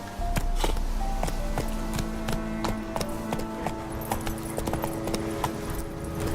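Roach, a horse in the video game Witcher 3, gallops with rapid, regular clip-clop hoofbeats that are close and crisp. A faint jingle of tack is mixed in, and there is no talk over the hooves.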